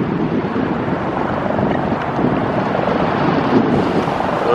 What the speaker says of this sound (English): Not sure how much wind noise you're getting in there